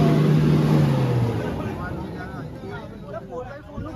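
A stuck Toyota Fortuner revs its engine hard, a loud strained drone that falls in pitch and fades, with people talking over it.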